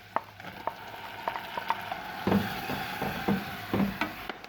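Shallot and celery sizzle gently in a pan of butter while a utensil stirs and scrapes at irregular intervals.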